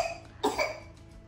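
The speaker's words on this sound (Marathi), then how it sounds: "तुला खोकला कसा झाला बेटा?" A young child gives a single short cough up close, a quick rough burst followed by a softer second push, in an otherwise quiet indoor room.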